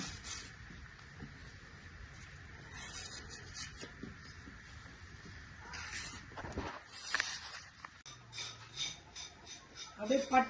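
A knife shaves strips from cinnamon bark in short, uneven bursts of dry scraping and rasping, fairly close and quiet, with small knocks and pauses between strokes.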